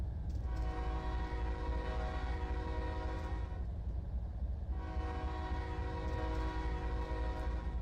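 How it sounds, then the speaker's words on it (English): A Norfolk Southern locomotive horn in Trainz Simulator 3 sounds two long, loud chord blasts with a short gap between them, over a constant engine rumble. "let's do the horn."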